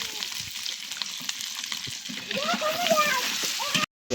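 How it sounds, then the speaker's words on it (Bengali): Onions and spices sizzle steadily in a hot pan, a continuous close frying hiss with occasional stirring scrapes, no voices over it. "রান্নার জন্য পেঁয়াজ কষাই নিচ্ছি"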